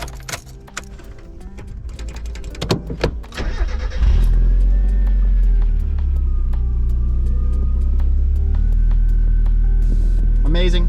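A Mazda Miata engine cranks and catches on a warm day, then settles into a loud, steady idle with a low throbbing rumble; faint handling noises come before the start.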